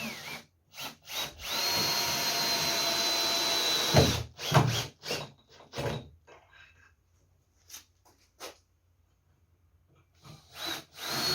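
A power drill whirs steadily for about four seconds while driving screws into the coping of a 2 ft, 1.8 m wide quarterpipe ramp, then gives a few short bursts and clicks, close by.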